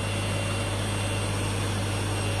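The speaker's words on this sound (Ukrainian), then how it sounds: "так як лопасті обдува. З двох сторін оце йде такий шум." An electric motor salvaged from a washing machine runs steadily on a bench with its cooling fan blades spinning, producing a continuous close hum and broadband whoosh with no voices.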